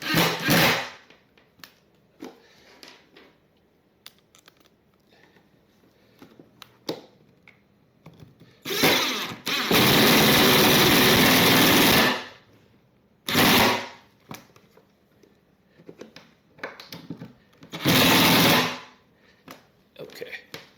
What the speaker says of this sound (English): now we can put our screws back on.